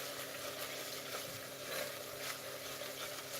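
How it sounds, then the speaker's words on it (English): A pot of Thai green curry chicken simmers and bubbles in a soft, continuous sizzle that stays faint and close throughout. "when it starts to bubble up like this, you want to reduce the heat to medium and let this cook slowly"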